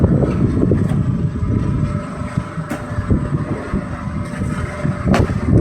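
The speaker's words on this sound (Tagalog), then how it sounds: "kahit medyo malon at malakas yung hangin" Strong wind at sea buffeting the microphone in continuous loud gusts with low rumble, over a rough boat ride on choppy water.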